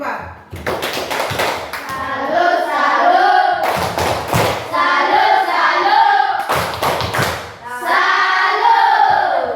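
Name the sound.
class doing the 'tepuk salut' clapping for group 4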